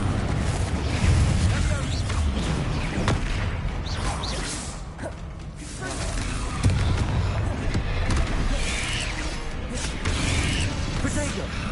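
Rapid Confringo spell blasts booming through combat in Hogwarts Legacy, dense and loud, layered with other spell effects and game clatter, with a voice shouting over the fighting.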